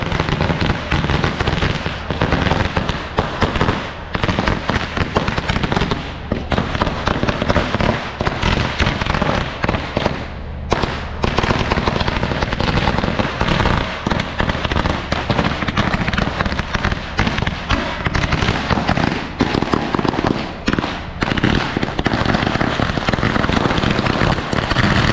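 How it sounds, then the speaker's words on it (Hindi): Dense, continuous crackle and bangs of fireworks and firecrackers at a wedding celebration in Mumbai, loud and close, with rapid overlapping pops filling the whole stretch. "इतनी खतरनाक आज आतिशबाजी थी कि क्या बताएं,"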